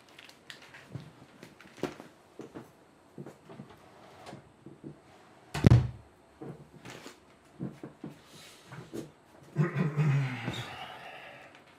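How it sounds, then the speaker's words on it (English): An office door is shut indoors, with one sharp thud in the middle that stands out among quieter knocks, shuffles and handling sounds, and a brief rustling burst near the end. "I'm just going to have to close my office door for one moment."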